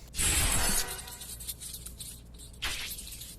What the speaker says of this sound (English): I particularly like this sort of like plastic glass sound. It's very like robotic and also futuristic at the same time